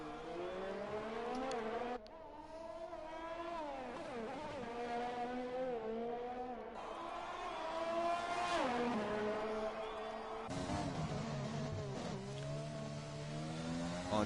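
An AlphaTauri Formula 1 car lapping the Singapore Grand Prix street circuit in an F1 racing game, a high-pitched engine whining up and down through gear changes, with rising revs, sharp downshifts and steady close drone.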